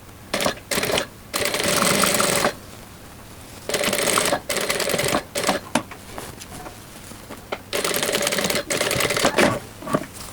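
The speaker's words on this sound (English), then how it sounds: "So we sew all around the armhole." A sewing machine stitches around the armhole of a linen dress in three long bursts of fast, steady clatter, separated by short pauses and lighter handling noises, close and clear with no talk.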